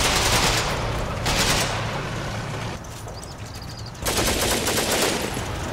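Battle gunfire in the video game Combat Mission Battle for Normandy, dense bursts of machine-gun fire and rattling shots in loud waves, easing off briefly then resuming strongly.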